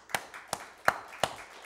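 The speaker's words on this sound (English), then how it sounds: "Give the Lord a hand clap tonight." Four sharp hand claps ring out in a church service, spaced roughly evenly, fairly faint and with no voices over them.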